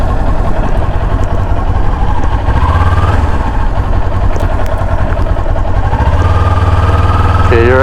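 Harley-Davidson Sportster Forty Eight with an SP Concepts exhaust idles loud and close, a steady deep rumble with uneven lumpy pulses throughout, brief revs near the end.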